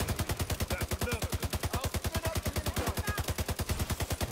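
Sustained automatic fire from an ACR rifle in a tactical shooter game, a steady rapid stream of evenly spaced loud shots running unbroken for several seconds.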